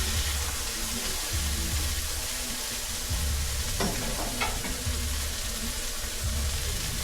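Smash burger patty sizzling on a flat-top griddle, a loud, steady frying hiss with a couple of spatula scrapes midway.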